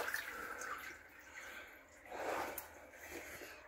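Water trickling and dripping inside Raven's Well water conduit in Bristol, a faint, intermittent watery patter with a brief louder splashy swell, heard close in a quiet enclosed tunnel.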